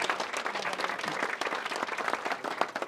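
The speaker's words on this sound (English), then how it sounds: "Lastly, a deserving round of applause." Wedding guests applauding during the reception speeches, a dense, moderately loud round of clapping that holds steady for a few seconds.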